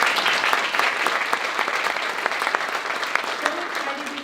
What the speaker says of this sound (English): Wherever you are, please stand up so we can give you a round of applause